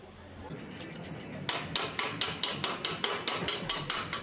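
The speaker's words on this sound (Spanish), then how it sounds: "El silencio del día de la contrición queda roto por martillazos, voces, caídas de maderos al suelo" Hammer blows ring out while a wooden sukkah is built, about a dozen sharp, evenly spaced strikes close by after a few quieter taps, over a faint background of activity.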